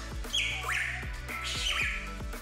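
Hooded Pitohui from Papua New Guinea calling: loud harsh squawking notes repeated in a steady rhythm, close and clear over a low constant background hum, with no voices.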